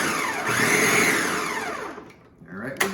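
A blender grinds chickpeas into hummus with a loud whirring motor whose pitch rises and then falls, and it stops near the end with a brief knock.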